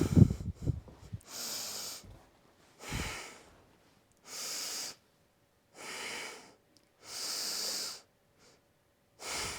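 During a hatha yoga stretch, a person takes slow, deep breaths through the nose, five or six long airy inhales and exhales evenly spaced with quiet pauses between, close and clear.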